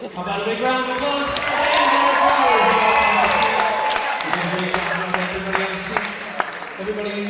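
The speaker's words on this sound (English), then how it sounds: "How about a big round of applause?" Audience at a high school prom hypnosis show applauding and cheering, a full crowd wash swelling then tapering across seven seconds, with music and voices mixed underneath.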